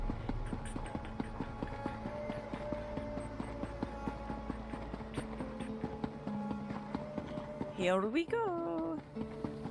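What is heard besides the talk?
mount footsteps clip-clopping in The Elder Scrolls Online, video game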